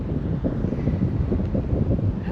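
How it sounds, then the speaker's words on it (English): Strong wind buffets the microphone outdoors at an RC car test track on a very windy day, a constant low rumbling roar with irregular gusty surges throughout. "Sorry about the wind. It's a very windy day today"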